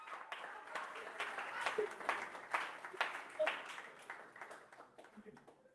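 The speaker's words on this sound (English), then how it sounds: "Can we put our hands together for them?" Faint, distant applause from an audience at a post-NYSC career readiness program, a loose patter of clapping that swells and then tapers off over the room.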